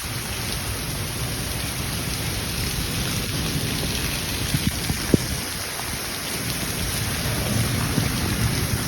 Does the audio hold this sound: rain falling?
yes